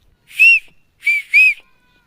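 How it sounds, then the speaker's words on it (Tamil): Three short, loud, close whistles, one then a pair, blown to call livestock in. "விசில் சத்துக்கு வந்துட்டாளுங்க பழக்கம் வந்துட்டாளுங்க விசில் சத்தத்துக்கு"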